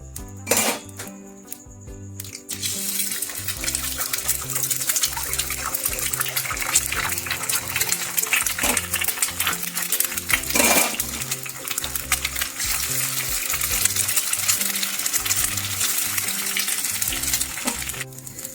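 Eggs frying in oil in a pan for a dhaba-style egg tadka: after a short quiet start, a loud continuous sizzle and crackle fills the clip close up, with occasional clinks of the pan, no talking.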